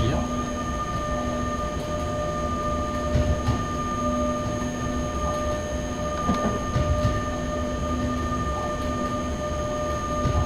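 An E 186 electric locomotive runs on rails in the train simulator SimRail in Poland, a steady rolling rumble with electric motor whine tones and occasional rail clicks and squeals, with someone speaking over it.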